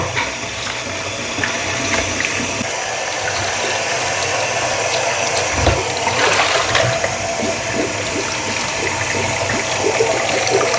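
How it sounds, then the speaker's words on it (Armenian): Hot water runs from a kitchen tap to rinse mountain sorrel from Vayk. A loud, close, continuous gushing stream runs throughout with no talk. "Տաք ջուրը բացեմ"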